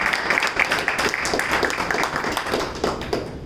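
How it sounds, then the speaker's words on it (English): An audience at a Toastmasters-style meeting claps together in a dense, steady patter of many hands at moderate loudness, with no clear talk over it. "When you decide to clap, clap properly"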